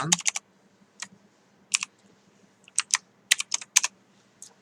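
Isolated keyboard key presses click in small clusters with quiet pauses between them, close and crisp with nothing else in the background.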